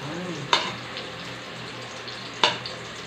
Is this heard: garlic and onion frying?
yes